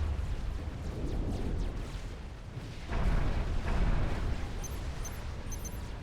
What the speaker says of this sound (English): We're taking a bit of fire. Okay, the artillery is not behaving as expected.